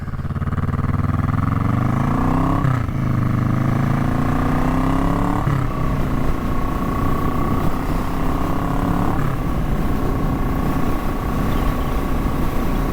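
An Indian Chief Vintage bagger motorcycle is ridden at steady speed, its engine droning continuously with several rising pitch sweeps as it shifts through gears, wind roar mixed in throughout.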